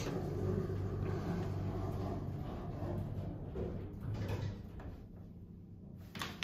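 A Schindler 330A elevator door slides shut in a continuous close rumble that eases off toward the end and finishes with a soft knock.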